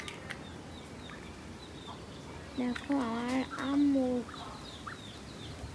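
Ducks give a short burst of quacks, a few nasal calls in a row lasting about two seconds, amid quiet rooftop background noise, with a person speaking briefly nearby.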